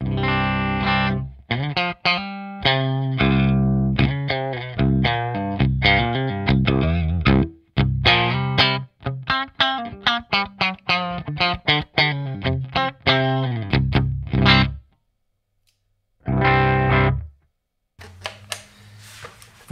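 Heavily distorted riffing on a Jackson JS1X Minion electric guitar through its Fishman pickup's second voicing, loud with choppy palm-muted bursts and short gaps, a brief pause near the end before a final chord.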